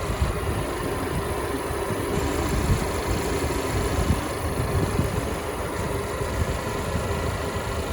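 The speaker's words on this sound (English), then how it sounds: "Listen to that engine." A 2018 Chevy Equinox LT SUV engine idles steadily at close range, a smooth, even rumble with no voices.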